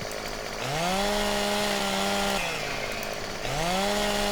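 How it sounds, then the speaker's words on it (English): Chainsaw in Farming Simulator 17 felling trees, its engine revving up to a loud sustained whine, dropping briefly, then surging again, close and continuous with no talk. "if I just run around like a headless chicken with a chainsaw, we'll soon get the job done"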